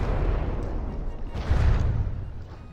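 Naval gunfire during a From the Depths battle between the warships Wapen and Kaiserin, a dense rumble of distant heavy booms with a louder burst midway, no one talking.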